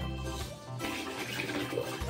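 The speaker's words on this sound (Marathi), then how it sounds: "पाणी भरून ठेवा बकेटीमध्ये." Water gushes steadily into a bucket being filled for watering money plants, a close, continuous rushing pour whose tone shifts slightly as the level rises.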